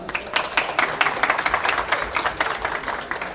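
An audience claps for a speaker at a tech talk on software development, a dense steady patter of many hands near and loud, with no voices over it, easing slightly toward the end.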